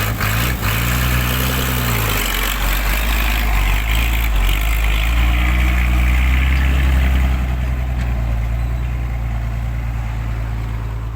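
A tractor engine runs nearby while clearing a road, a loud, steady low rumble with throbbing mechanical tones that persists without a break.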